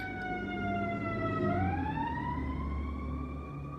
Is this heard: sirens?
yes